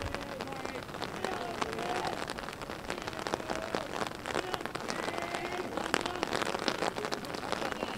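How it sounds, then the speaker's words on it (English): Heavy rain pours steadily over an outdoor high school varsity baseball game, a dense continuous hiss of drops on surfaces with faint voices and scattered taps beneath. "Raining pretty hard."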